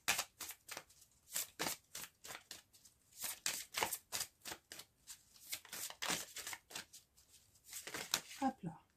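Tarot cards are shuffled and drawn in a rapid flurry of close, crisp riffling and snapping, with brief pauses, under a speaking voice.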